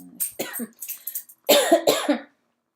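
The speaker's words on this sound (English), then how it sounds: "Here comes my coughing" Several harsh, close coughs in quick bursts, a short cluster then two louder ones, with brief silence between.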